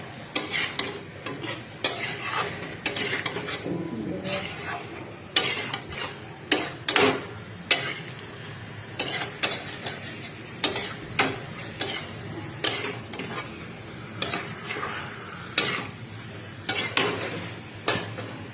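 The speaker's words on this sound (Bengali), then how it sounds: "দেখতে পাচ্ছেন আমি নাড়াচাড়া করছি" Mutton curry with tomato is stirred and sautéed in a pot, rhythmic spoon scrapes and knocks against the metal repeating every second or so over a low frying sizzle.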